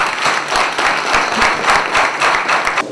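An audience in a hall in Vanadzor claps after political campaign speeches, dense sustained applause from many hands, loud and close throughout.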